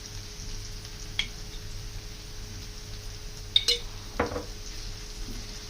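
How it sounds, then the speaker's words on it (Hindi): Tomato with garlic and ginger paste frying in a pan for bhuna keema, giving a steady close hiss of sizzling oil with a few sharp utensil clinks against the pan and no talking. "अब टमाटर को और लहसुन को अच्छी तरह भून लेंगे"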